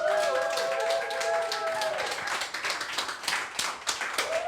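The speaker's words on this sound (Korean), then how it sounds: "여러분들께서 큰 박수와 환호로 모셔주시면 더욱더 힘찬 강의가 될 것으로 예상됩니다" An audience at a network-marketing lecture claps to welcome the lecturer, building into dense clapping under a voice heard over a tonal sound at the start.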